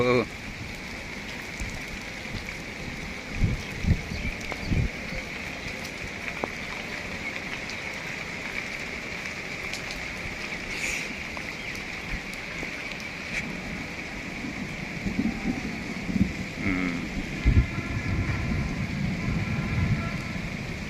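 Heavy rain pours down in a forest, a constant hiss and patter with scattered heavier drops and knocks, with some background voices joining in toward the end.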